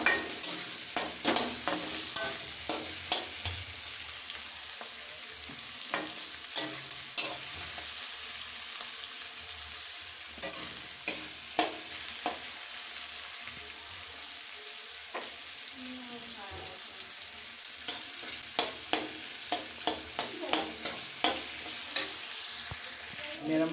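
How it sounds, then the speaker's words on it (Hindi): Onions fry in hot oil until browned, a steady close sizzle broken by regular scraping and stirring knocks from a spoon against the pan, with no talking. "प्याज को लाल करेंगे छींटकर, प्याज को लाल करेंगे।"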